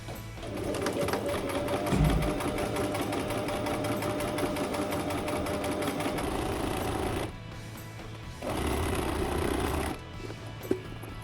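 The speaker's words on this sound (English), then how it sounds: "use that marking to sew along here that edge that I'm gonna have" A sewing machine stitches a long seam along the edge of a linen pants waistband, running steadily and close for about seven seconds, pausing briefly, then starting again before stopping.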